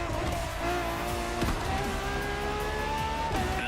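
A Ferrari LaFerrari petrol-electric hybrid supercar drives in the racing game The Crew Motorfest, its engine droning loud and steady with shifting pitch, brief gear-change breaks and faint tire squeal throughout.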